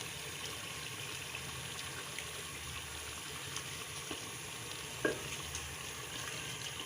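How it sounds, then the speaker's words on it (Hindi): Mixed daal sizzles and fries in a pan while being stirred, a steady, dense crackle near at hand with one brief scrape of the spoon. "इसको हम अच्छे से भूनेंगे।"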